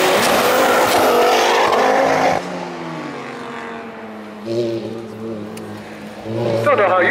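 A Ferrari and a Ford Focus race at Alford Speedfest, with loud engines roaring past up close before dropping to a steadier drone, then rising again near the end, while a commentator talks over them.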